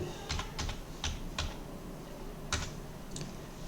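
A PIN is keyed in on a keyboard during an online registration fee payment, a handful of soft, separate key clicks in two brief bursts with a pause between them, faint against quiet room background.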